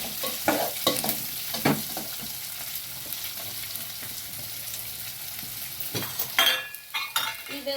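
Chopped onions sizzle and fry in a pan for kara kozhukattai while a spoon scrapes and stirs them in irregular bursts, with a few clinks against the metal; no talking.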